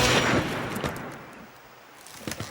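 Gunshot in an animated adventure story, a loud, close burst that opens the moment and decays into a rumbling tail, with a few faint sharp cracks afterward and no talking.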